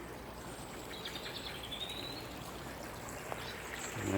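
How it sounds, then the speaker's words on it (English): A small stream running beneath a canal on the Coventry Canal Griff Arm, with a quiet, steady trickling and burbling of water and a faint bird call, heard alone. "And there's the stream."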